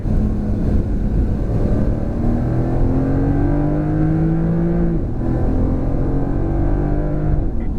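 A Porsche engine accelerates hard on a racetrack during a driving experience, a loud, close, continuous note climbing in pitch through gear changes with no talk over it.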